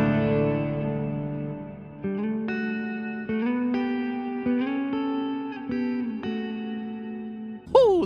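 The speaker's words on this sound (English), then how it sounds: "the small hall reverb is really good" A sustained electric guitar through a Fender Tone Master Pro small hall reverb plays slow single notes and bends, each ringing out with a spacious, roomy reverb tail.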